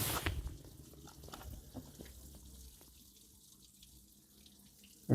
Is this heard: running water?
yes